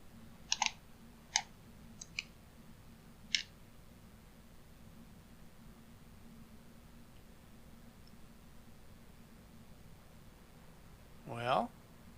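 Husqvarna 122HD45 hedge trimmer blade rubbing against a plastic edge, giving a few sharp, irregular clicks early on and a short scraping burst near the end, quiet against a faint steady hum.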